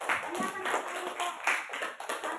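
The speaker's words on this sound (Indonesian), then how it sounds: "Ya, tepuk tangan." Applause from a classroom group after a student presentation, a short burst of steady clapping from several people, moderately close, with some speech underneath.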